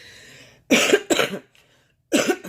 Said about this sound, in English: Some type of smoker's cough or some shit